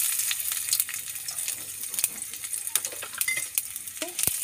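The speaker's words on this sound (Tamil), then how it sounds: "நம்ம கட் பண்ணி வச்சுருக்க இஞ்சி பூண்டு இது ரெண்டுத்தையும் நம்ம இதில் போட்டுக்கலாம்." Chopped ginger and garlic frying in hot oil with popped mustard seeds, a steady soft sizzle with intermittent stirring scrapes and clicks, close and moderately loud, no talking.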